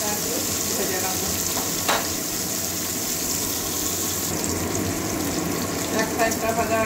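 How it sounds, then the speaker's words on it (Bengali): Vegetables (bitter gourd, eggplant, potato and pumpkin) lightly frying in a pan for a Bengali curry, with a steady close sizzle throughout and a few soft clinks as pieces are turned. "হালকা একটু ভেজে নেবো, তাহলে একদম পিঠা ভাবটা যে কোনো থাকে ওটাও চলে যাবে"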